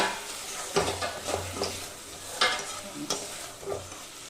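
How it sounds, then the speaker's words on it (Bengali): Cleaned prawns being stir-fried in a spice paste, a close sizzling hiss with repeated scraping and clinking strokes of a utensil against the pan, alone without voices. "এবার আমি এর মধ্যে দিয়ে দিচ্ছি ভালো করে পরিষ্কার করে বেছে রাখা চিংড়ি মাছ দিয়ে এটাকে আবারও একটু ভালো করে কষিয়ে নেব"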